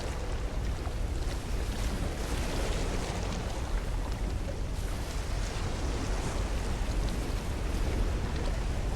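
Ocean waves crash and surge in the No Man's Sky survival game, a dense, continuous roar of water and rushing wind filling the whole stretch at steady loudness with no talk.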